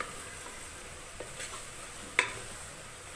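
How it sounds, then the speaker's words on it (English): Bell peppers and Scotch bonnet (atarodo) peppers are stirred in a sizzling pan for spaghetti. A steady hiss of hot oil runs throughout, broken by a few clicks and one sharp clink of the spoon against the metal. "Now we're adding our peppers, the bell peppers and the Scotch bonnet peppers, our Atarodo."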